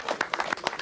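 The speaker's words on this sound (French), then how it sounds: "On applaudit les gagnants du plus gros poisson de ce championnat de France 2013" Audience clapping for the biggest-fish winners at the 2013 French boat fishing championship final, a short burst of irregular, close handclaps with no voices.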